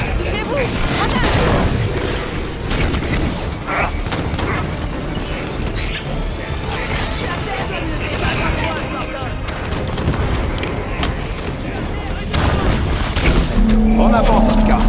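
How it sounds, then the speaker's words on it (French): A grenade explodes during a Legendary-difficulty campaign battle in the video game Halo 5: Guardians, a heavy boom among dense gunfire and rumbling blasts, with voices talking over the fighting. "Grenade."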